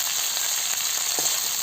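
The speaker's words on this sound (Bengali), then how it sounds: "আদার কাঁচা গন্ধটা যাওয়া অবধি একটু নেড়ে নেব" Ginger paste and spring onions fry in hot oil for a fish curry, a brief, steady, close sizzle with only a faint hint of stirring and no voices.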